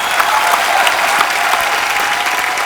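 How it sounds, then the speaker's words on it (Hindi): A dense, steady round of audience applause, many hands clapping together at close range without letup. "जोरदार तालियां"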